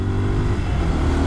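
A 2023 Bajaj Pulsar 150 motorcycle engine revs steadily as it accelerates, a deep, continuous rumble that holds loud and close throughout.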